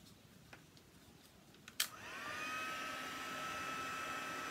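A heat tool clicks on and then blows with a steady, loud whooshing whine as it warms embossing powder, preceded by a few soft taps and quiet handling sounds.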